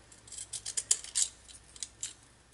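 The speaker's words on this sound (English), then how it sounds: "So I'm gonna take my scissors and I will just cut the edges here." Scissors snipping the edges of small paper squares about an inch across, a quick series of close, crisp cuts over roughly two seconds, with no talking.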